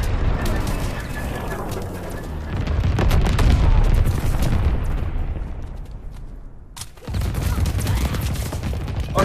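An anti-aircraft battery in the Call of Duty WWII video game fires a rapid, dense volley of booming shots over a roaring, sustained battle din, with a brief dip before the barrage resumes loudly.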